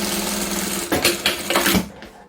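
A sewing machine stitches a folded strip of old denim jeans for a pot holder, a steady close mechanical whir broken into several short bursts, then slowing to a stop.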